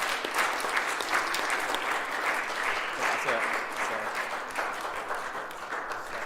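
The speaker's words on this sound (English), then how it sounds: "Big round of applause" Sustained applause fills a school hall at an end-of-term assembly, a dense, even crowd of clapping hands lasting several seconds, with a brief spoken remark over it.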